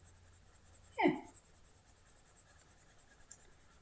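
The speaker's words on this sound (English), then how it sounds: "I discovered that you can use your polychromos on top of the luminance to create some extra little detail on it" Polychromos colored pencil strokes over luminance-coated paper, drawing detail onto autumn leaves: a single short scratchy stroke around the one-second mark stands out close and clear, followed by faint quiet friction in a still room.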